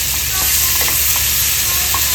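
Barramundi fish frying on a tawa gives off a steady, dense sizzle that crackles evenly throughout, close and fairly loud with no voices.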